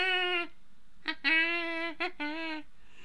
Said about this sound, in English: Sorry, the ice cream van distracted us.